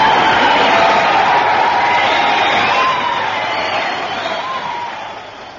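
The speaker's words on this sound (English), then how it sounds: "Hear that applause, dear listener." A studio audience at a BBC radio comedy show applauds and cheers, a broad crowd roar with scattered whoops that gradually dies down over several seconds.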